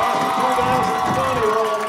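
Students at a school pep rally cheering for a class of 2019 presentation, a steady wash of crowd noise and scattered shouts that stays constant and fairly loud throughout.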